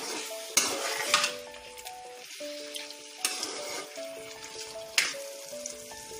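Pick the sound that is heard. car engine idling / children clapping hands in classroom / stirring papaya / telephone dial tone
stirring papaya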